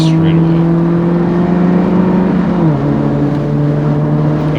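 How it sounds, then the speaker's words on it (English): A Mazda Miata engine at full throttle down the straightaway at Hallett Motor Racing Circuit, a loud steady drone climbing in pitch, then dipping briefly as the revs change before holding again. "by here you're back on the gas full throttle trying to make it down the straightaway"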